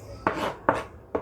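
Three sharp knife chops land on a cutting board while ingredients for Mexican posole are prepared, evenly spaced and close up, with no talk over them.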